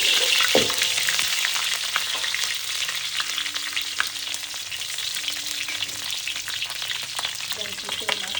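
Lemongrass and spice paste fry in hot oil for Soto Madura, a loud, continuous close sizzle with stirring scrapes and crackles and no voices.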